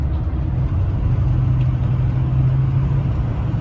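A Ford truck with a 6.0 Powerstroke diesel cruises along the road, its engine and road noise forming a steady, continuous low drone with a faint whir, close and fairly loud throughout.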